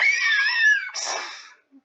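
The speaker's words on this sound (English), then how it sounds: "This screeching" A high, wavering screech rings out close and loud for about a second, then breaks into a harsher, noisier rasp that fades out, followed by a brief low thump, set as a sound effect in a tabletop role-play scene.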